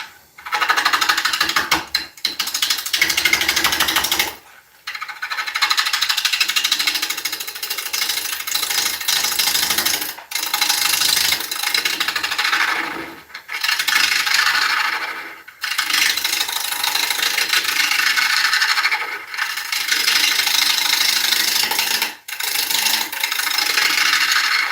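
Wood lathe turning dieback ash, with a harsh, scraping cut against the spinning wood that runs loud and steady in long stretches, broken by several brief stops where the lathe halts before starting again.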